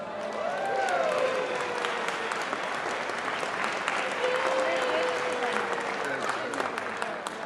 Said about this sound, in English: Let's give Peggy a big round of applause